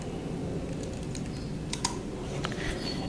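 A computer keyboard clatters as a question is typed into ChatGPT, with a quick run of close key clicks over a steady background hiss.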